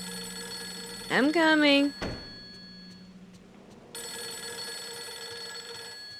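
A telephone rings steadily in the video game Fatal Frame III, a thin electronic tone that runs through the scene while a voice briefly speaks over it, followed by a short thud.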